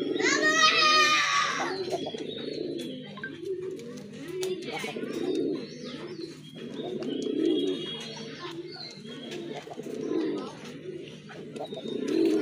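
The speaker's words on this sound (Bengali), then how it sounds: "আরেক জোড়া কবুতর দেখতে পাচ্ছেন" Large Rajgolla pigeons coo in low, repeated throaty phrases at close range, with chirps and a bright bird trill at the start and voices in the background.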